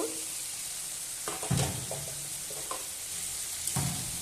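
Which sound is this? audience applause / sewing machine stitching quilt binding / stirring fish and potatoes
stirring fish and potatoes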